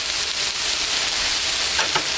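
Pork tenderloin bites sizzle on a Blackstone griddle outdoors in the rain, a loud steady hiss close by with a couple of faint scraping stirs near the end.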